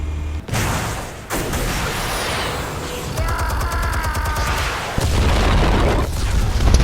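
Armed explosives going off in a Batman video game: heavy booms and crackling bursts roll across the clip, with a sharp louder blast near the end over continuous rumbling.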